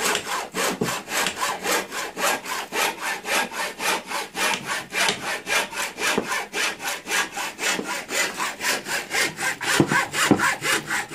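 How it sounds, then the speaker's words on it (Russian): A hand saw cuts through wood in steady, even back-and-forth strokes, rasping rhythmically and close by with no talking. "Надо отпилить край."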